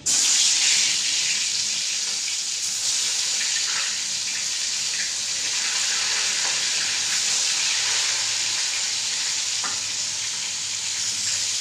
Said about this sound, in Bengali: তেলটা হয়ে গেছে আর মাছটা আমি দিয়ে দিচ্ছি